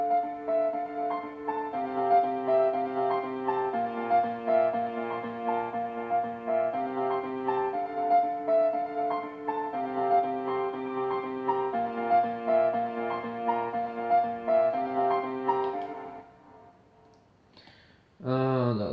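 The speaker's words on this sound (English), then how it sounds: "So that's the drop chords." Synthesized drop chords from an electronic track, sustained stacked tones shifting in a steady repeating progression for about sixteen seconds, then fading out before a brief burst of a different sound near the end.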